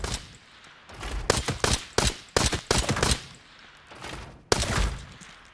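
Rapid bursts of gunfire from a weapon in the shooter game Arena Breakout Infinite, a quick string of loud, sharp shots clustered in fast volleys with brief pauses, then a final shot near the end.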